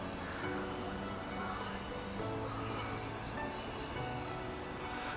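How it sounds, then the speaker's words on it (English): Crickets chirp in a steady, continuous high-pitched trill in Tokyo, soft and constant, with faint background noise and no talking. "You can still hear the crickets cricketing away."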